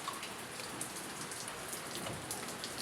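Heavy typhoon rain falls continuously in a thick, even hiss, with occasional louder drops splattering close by.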